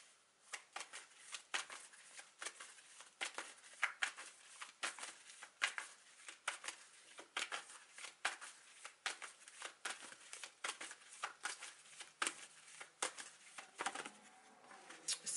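Tarot cards being shuffled to draw clarifier cards, a steady run of soft papery riffles and flicks, close and fairly quiet, with no talking.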